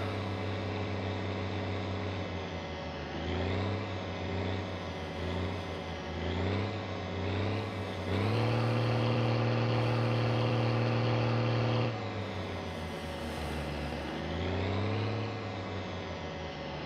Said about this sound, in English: Give it a few revs.